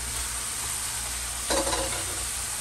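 Half an onion sizzling in a pan for a breakfast burrito, a steady crackling fry with a low background hum and a short burst of louder stirring midway, no voices.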